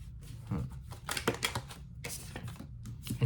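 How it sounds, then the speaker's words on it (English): Tarot cards being shuffled by hand in a quiet room, a run of dry riffling flutters and soft slaps in uneven bursts, fairly close and moderately loud. "I shuffle out cards, by the way, in between reads"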